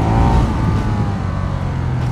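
A motorcycle engine revs loudly and close, a dense throaty roar that holds steady, then eases slightly.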